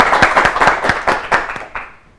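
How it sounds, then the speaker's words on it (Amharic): A studio audience at a children's quiz contest applauds the contestants with a short burst of clapping that starts strong and quickly fades out. "አጨብጭቡላችሁ በደንብ አድርጋችሁ።"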